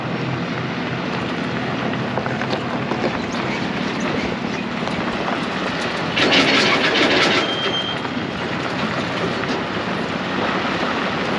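An old IH 915 combine rumbling steadily as it crosses railroad tracks, a loud, continuous mechanical drone with a brief burst of brighter rattling midway.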